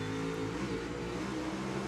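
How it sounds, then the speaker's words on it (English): A NASCAR Cup Series car at North Wilkesboro Speedway under throttle with its rear tires spinning and slipping: a faint, steady engine drone with layered tones, heard from a distance without talk. "Hear him in the throttle, sliding the car, spinning the rear tires."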